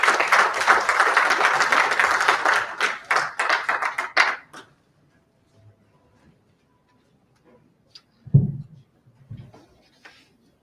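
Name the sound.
audience applause welcoming speaker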